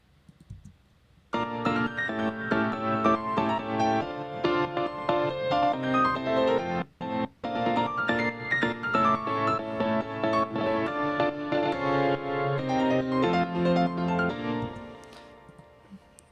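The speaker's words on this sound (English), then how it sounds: "big moving piano parts" A busy, dense piano part with fast rolling chords and runs across a wide range, played continuously with one brief break midway, then fading out.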